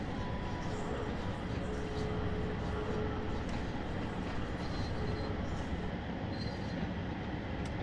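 Train Sim World 2 diesel local on the Penzance to Truro line in West Cornwall, a steady continuous rumble of rolling stock with faint rail squeals, running at speed throughout without a break.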